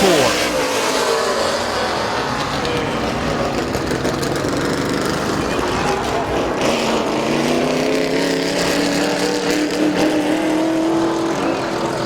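Race cars drone around the Midvale Speedway oval in a continuous pack, engines rising and falling as they circle, heard from the stands beneath a track announcer's steady commentary.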